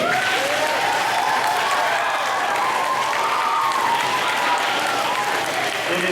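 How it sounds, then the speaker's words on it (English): Sustained, dense applause from a school audience for a 7th grade performance, loud and steady throughout with no pauses. "We have one more round of applause for our 7th grade."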